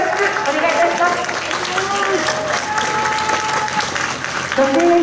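Crowd applause at an outdoor election campaign speech for a Japanese Communist Party candidate, loud sustained clapping with scattered cheers and voices for several seconds.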